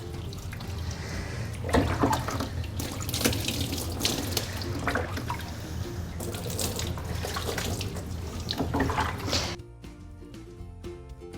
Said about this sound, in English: I'm gonna try to rinse her belly here.